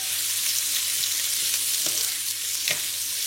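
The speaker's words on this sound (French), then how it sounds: "je mets dans une poêle et je fais revenir les poireaux" Leeks sautéing in olive oil in a frying pan give off a steady, close sizzle with soft crackles and a few brief stirring scrapes, and no one speaks.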